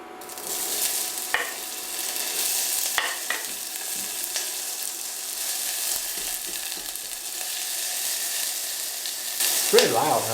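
Olive oil sizzles steadily in a pan as the base for a veggie gravy, with a dense, continuous frying hiss and occasional louder scrapes and clatters from stirring, close and without speech.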